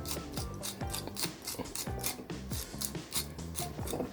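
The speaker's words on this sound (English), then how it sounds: "get some fresh rosemary, or get you some in the grinder like so" Rosemary ground from a spice grinder over a cowboy rib eye steak: a rapid series of dry, ratcheting crunches, close and steady, with no talking.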